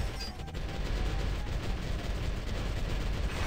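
Cannons fire in a video game as a dense, continuous barrage of booms and rumbling gunfire, loud and steady throughout without clear breaks, no voices heard.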